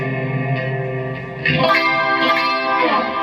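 Sustained guitar chords drenched in reverb and echo, notes smearing and ringing into each other, with a louder strum halfway through.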